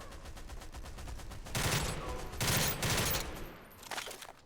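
Mounted turret fire in a Star Wars roleplay in Garry's Mod, two or three loud sustained bursts of rapid shots over quieter background game noise.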